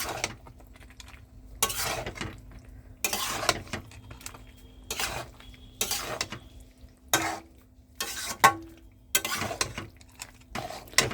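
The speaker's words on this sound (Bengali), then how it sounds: "পাস্তাটা দেওয়া হয়ে গেছে, খুব ভালো করে মেশাতে হবে" Pasta is stirred into white sauce in a pan with a utensil, producing repeated bursts of wet scraping and clinking in a loose rhythm, close up, with quiet gaps between strokes.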